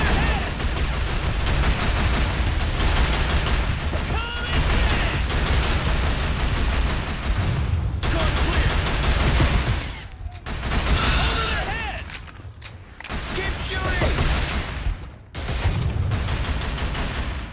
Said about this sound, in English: Keep shooting! Suppressing fire!